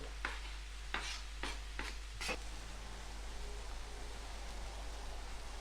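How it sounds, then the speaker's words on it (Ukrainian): Tomato goes into a frying pan of butter and garlic, giving a quiet steady sizzle with a few short scraping stirs of a utensil in the first half, then just the soft frying hiss. "Трішки обсмажили, тепер додаємо помідор."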